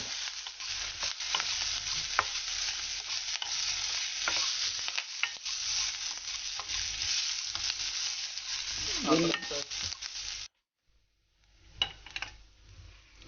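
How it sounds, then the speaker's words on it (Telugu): Ginger with green chillies and curry leaves frying in a hot pan, a continuous close sizzle and crackle with repeated spatula stirring scrapes, then a sudden brief silence before the sizzling resumes more faintly. "ఈ అల్లం దీంట్లో వేసేద్దాం. వేసిన తర్వాత దీన్ని బాగా వేయిద్దాం."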